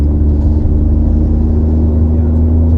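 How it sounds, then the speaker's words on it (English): Constant low road and tire roar inside a Ford EcoSport automatic riding on 17-inch wheels at highway speed, a steady droning hum with no breaks. "There is a bit of significant road noise."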